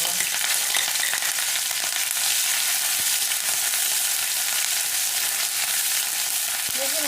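Ginger and green chillies sizzle in hot oil for a vegetable chop filling, a loud, steady, close hiss that fills the whole stretch without a break and with no voices.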